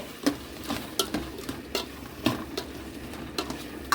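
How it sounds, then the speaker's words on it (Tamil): Irregular scraping and clinking of a utensil stirring chunky soya-chunk curry in a pot, a steady sizzle underneath, no talking. "இது நம்ம கிளறி விட்டுக்கணும்."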